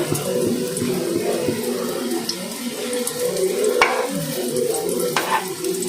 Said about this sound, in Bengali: ভালো করে ওলট পালট করে ভেজে নিতে হবে